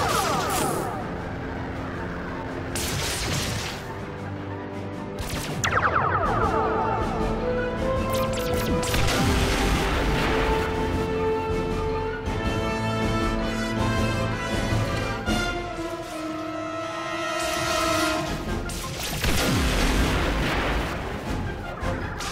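Starship phaser fire in a Star Trek space battle game: loud, dense bursts of blasts and booming impacts repeat throughout, layered over a sustained tonal score with no pause.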